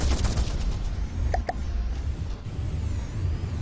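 Missiles and gunfire in the naval combat game From the Depths fill the air as a dense, continuous fusillade of booming shots and impacts, with a pair of sharp cracks standing out midway.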